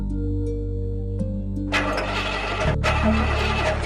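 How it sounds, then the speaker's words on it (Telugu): A vehicle engine cranks with a rapid whirring churn that cuts out briefly and then tries again, never catching into a running idle, heard close and loud over a faint steady hum. "బండి స్టార్ట్ అవ్వట్లేదండి"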